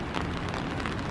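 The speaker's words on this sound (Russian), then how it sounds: "Серая погода, идет дождь." Rain drums steadily on an umbrella outdoors by a river on a grey, cool day, a dense continuous patter close overhead with no voices.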